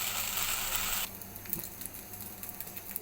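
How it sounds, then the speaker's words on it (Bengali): Bao buns fry in a pan, with a soft steady sizzle that drops suddenly after about a second into a quieter crackle with faint pops and a brief clatter. "দেখুন আমি বাওয়াবান দুটোকে একটু কালার করে ভেজে নিয়েছি"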